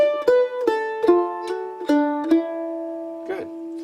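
Mandolin picking a short phrase from the fiddle tune Lost Indian, about eight plucked notes with ringing harmonics and a slide between two notes, close and clear with no voices.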